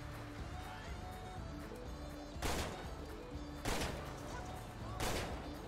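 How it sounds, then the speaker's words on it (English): Gunfire in a GTA roleplay game session comes as three sharp, fairly faint bursts spaced about a second apart, over a low background hum. "I'm shooting that guy in that stupid bike"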